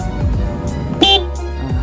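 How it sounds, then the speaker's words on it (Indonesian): Horn of a Yamaha Jupiter Z1 motorcycle being tested, a short loud electric beep heard among a few brief bursts of nearby mechanical noise. "Ini untuk klakson, kita tes klaksonnya."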